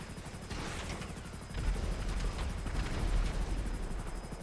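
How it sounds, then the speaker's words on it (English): An explosion blowing up a helicopter in Grand Theft Auto, heard as a rumbling burst with crackling debris over a steady whirring drone, loud and dense throughout with no talking. "I blew that helicopter to all hell."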